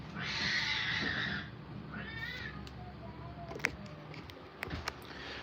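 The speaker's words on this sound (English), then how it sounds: "The cats are fighting" Two cats fighting over who gets into a basement, letting out loud, drawn-out yowls and caterwauling meows, followed by quieter scattered sounds and a few sharp knocks nearby.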